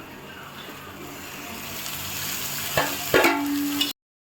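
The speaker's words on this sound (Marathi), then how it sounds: "आता ही आपली बारीक चिरलेली मेथी आहे, ही आपल्याला तेलामध्ये भाजून घ्यायची आहे बघा व्यवस्थित।" Finely chopped fenugreek leaves frying in oil for methi pitla, a steady close sizzle that slowly builds, broken by a couple of utensil knocks before it cuts off.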